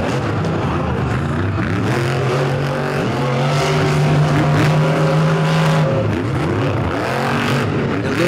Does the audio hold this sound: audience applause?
no